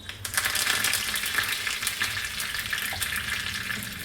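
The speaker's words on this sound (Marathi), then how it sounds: "तेल तापलेलं आहे, त्यामध्ये मोहरी टाकत आहे. नंतर हा कढीपत्ता आहे, तो कढीपत्ता टाकत आहे." Mustard seeds and curry leaves sizzle and spatter in hot oil for a tempering, a steady dense crackle with sharp popping bursts throughout, close and fairly loud, with no voices.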